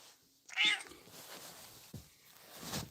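A rescue cat gives one loud, close meow, then quieter rustles and faint vocal sounds follow in an otherwise quiet room.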